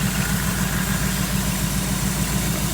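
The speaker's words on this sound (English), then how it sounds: "I've run across quite a few Chevy small block V8s, and I have to say this one runs about as well as anyone I've ever heard" A 1974 Chevy Nova small block V8 idles smoothly and loud up close, a steady low rumbling throb with even pulses throughout and no talking.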